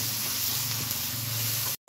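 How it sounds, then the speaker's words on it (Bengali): Ground spice paste of onion, ginger, garlic and cumin frying in a pan for a rohu fish curry, a steady close sizzle and hiss that cuts off abruptly near the end. "মশলাটা কষিয়ে নেব।"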